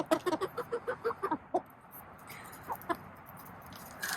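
Chickens cluck in a quick run of short, close calls, then fall quieter with scattered soft clucks and rustling afterward.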